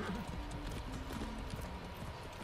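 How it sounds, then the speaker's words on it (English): A horse gallops in a video game, with steady, dense clip-clop hoofbeats that run continuously at close range without pause. "Watch me just ride this horse into the middle of the encampment"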